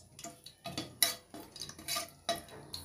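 Whole spices such as black pepper, cloves, cardamom, cinnamon and bay leaf frying in oil for haleem, stirred with rhythmic scraping and clinking strokes against the pan over faint sizzling.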